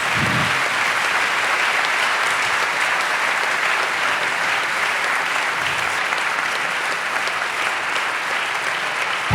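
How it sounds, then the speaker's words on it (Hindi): A church congregation at an Urdu-Hindi sermon applauds loudly and steadily for about nine seconds. The clapping is a dense, continuous roar with no talk over it. "आओ अपने जिंदा खुदा के लिए जोरदार ताली"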